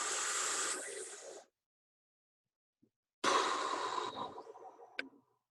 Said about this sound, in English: Now, everyone take a deep breath.